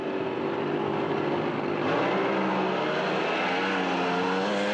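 A dragster and a brand new front-engine altered with a 34 coupe body racing side by side down a drag strip at the NZ Nationals, a loud sustained engine roar with rising harmonic tones as both cars accelerate away.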